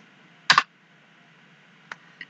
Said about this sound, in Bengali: ওকে, আমি এখানে এন্টার দিয়ে দিই।